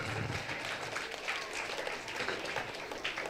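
An audience at a theater seminar applauds after a performance, a dense, even patter of many hands clapping at moderate volume for a few seconds.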